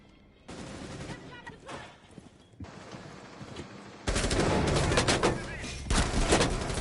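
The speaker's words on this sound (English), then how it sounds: "I can hear gunshots in the distance" Bursts of distant gunfire in a tactical shooter video game during a competitive esports quarter-final, with rapid volleys growing louder toward the end beneath a commentator's voice.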